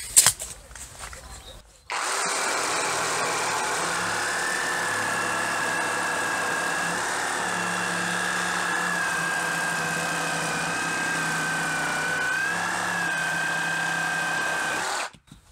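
An Einhell TE-AP 18/28 LI BL cordless brushless reciprocating saw with a rotating handle runs steadily through a 10 by 8 workpiece, a continuous loud motor drone after a short start, lasting about thirteen seconds before cutting off.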